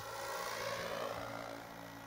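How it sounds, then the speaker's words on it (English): A remote-control model helicopter on a gentle test flight makes a steady, faint whirring engine and rotor drone with no break. "Just breaking in these packs, feeling the helicopter out."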